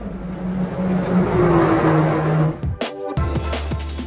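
Mercedes-AMG A45 S high-performance car engine, a loud steady drone with shifting pitch that cuts out abruptly near the end, followed by a different, revving burst of engine noise.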